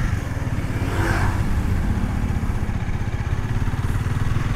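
A rental motorcycle's engine hums at a steady mid-pitched drone while riding in Vietnam, loud and continuous with rushing wind noise and no speech.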